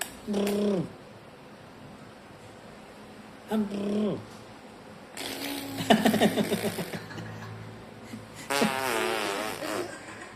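Short sputtering farts from a baby, several brief bursts spread out, near and fairly loud, with adults talking and cooing around them.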